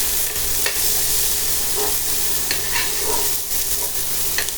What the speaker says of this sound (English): I'm going to just stir fry this up for just about a couple of minutes.